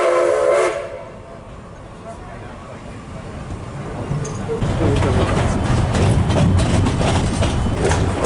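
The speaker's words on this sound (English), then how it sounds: "here comes the Cedar Point Lake Erie Railroad." A distant Cedar Point and Lake Erie Railroad steam train passes at Cedar Point with a rising rumble and clatter of cars, a whistle-like tone heard faintly early on, loud and close toward the end.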